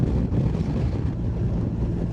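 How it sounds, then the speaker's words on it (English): Cold mountain wind buffeting a microphone outdoors, a loud continuous low roar with gusty fluctuations throughout. "That's one nippy wind."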